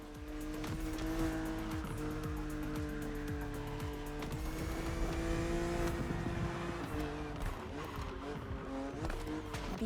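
BMW Z roadster racing in The Crew Motorfest in Hawaii, a continuous engine drone with gear shifts and tire squeal, with a voice talking over it.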